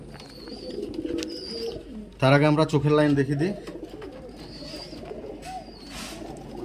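Murshidabadi Giribaz and Madrasi pigeons cooing softly nearby, with faint calls heard in the background while someone talks over them.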